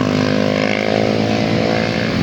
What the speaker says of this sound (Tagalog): Halo-halong mga motor, oh, yun, oh.